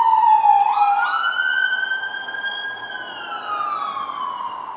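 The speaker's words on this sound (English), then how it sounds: "excuse the sounds of these sirens" Emergency vehicle sirens pass outside, a loud wailing tone that sweeps up and holds before slowly falling away, with no talk over it.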